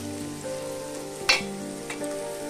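Capsicum and carrot frying in a pan give a steady close sizzle with a humming tone beneath, broken by a brief clatter or stir midway and a softer knock near the end.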